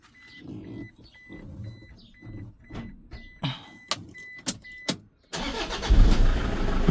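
A used car with a healthy engine offered for sale, starting up and running with uneven revs, close and fairly loud, with a brief whir like a power window and heavier engine noise swelling toward the end.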